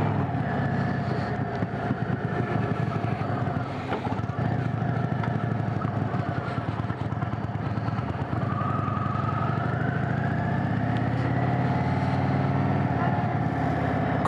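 An Indian Roadmaster Dark Horse 116 motorcycle engine rumbles steadily at close range as it rides through downtown with a passenger, with wind buffeting the microphone and the revs rising partway through.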